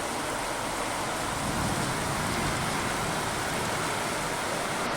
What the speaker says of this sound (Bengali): আমাদের গড়িয়াহাটে কিন্তু সাংঘাতিক বৃষ্টি হচ্ছে